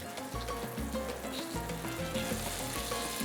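Onions and already-cooked cod sizzle in olive oil in a pan, a steady, close frying hiss that runs unbroken under soft background music.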